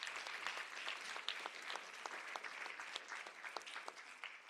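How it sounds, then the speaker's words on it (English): A symposium crowd applauds the Collins family with a moderate, fairly soft patter of many hands, busy and continuous with small swells and no speech over it. "give a round of applause to the Collins family"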